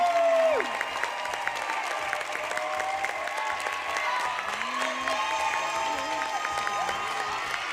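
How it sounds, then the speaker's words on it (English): A crowd applauds dancers at a dance show, clapping loud and sustained throughout, with a few whistles and cheers rising above it. "One more round of applause for our dancers tonight."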